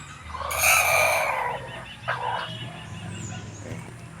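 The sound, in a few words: chickens clucking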